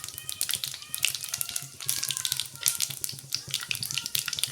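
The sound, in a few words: mustard and cumin seeds sizzling in hot oil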